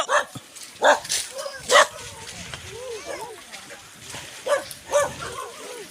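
Several dogs bark in sharp bursts, some close and loud, others fainter, with yelps and whimpers between them and people talking underneath.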